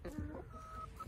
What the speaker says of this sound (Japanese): あ、ニワトリたち。